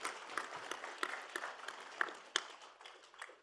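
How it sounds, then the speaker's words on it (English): A small forum audience claps after a presentation on railways for decarbonized transport, scattered and fairly quiet hand claps with distinct individual slaps scattered across a few seconds. "I think a round of applause for this innovative solution."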